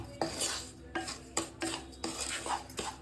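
Semolina (rava) roasting in ghee in a pan for kitchadi, stirred steadily with a metal spoon that scrapes and clinks against the pan in regular strokes, up close with no talking.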